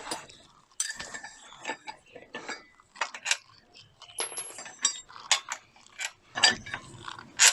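Wheel bolts being spun off a Mercedes W203 by hand, a run of light metallic clicks, rattles and clinks close by, starting and stopping in short irregular bursts.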